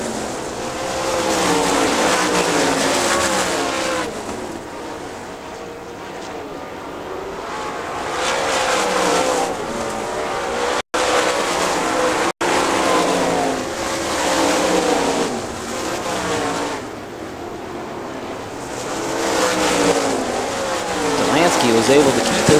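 Race cars roar around a track in lap traffic, engine noise rising and fading repeatedly as cars pass close by, loud and continuous, with a commentator's voice over the top.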